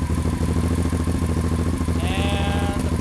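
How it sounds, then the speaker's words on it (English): A 1989 Honda Shadow motorcycle engine runs steadily with a loud, close, pulsing idle, then a brief bleating, whining tone near the end as it is blipped and switched off. "I'll give her a little throttle and hit the off switch and see maybe if it kicks back then"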